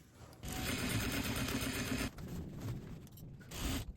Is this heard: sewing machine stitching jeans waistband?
yes